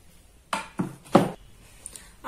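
A plate set down over fried egg fingers in a home kitchen gives three short ceramic clinks and knocks spaced about half a second apart, close and moderately loud, with a faint final tap.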